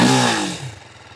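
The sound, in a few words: TVS Apache RTR 310 motorcycle exhaust note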